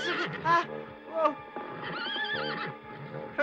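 A cartoon horse neighs with high, wavering whinnies, along with short bursts of hooves or voice, close and clear, heard in animated musketeer-era adventure.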